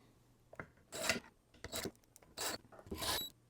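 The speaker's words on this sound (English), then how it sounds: "And now we can put all of our screws back in." Short scraping, rasping strokes as screws are driven back into a Tesla horn assembly, several quick bursts close up and fairly quiet, with no talking.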